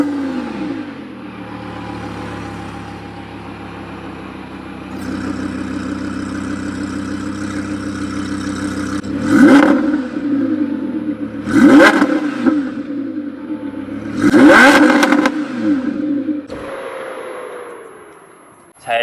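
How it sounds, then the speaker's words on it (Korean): Audi R8 V10 Spyder, a newer convertible import, idling close up and then revved three times in sharp bursts, its exhaust roaring loudly out of large, wide muffler tips before settling back to idle. "이쯤에서 R8의 미친 배기음을 한번 들어보도록 할까요?"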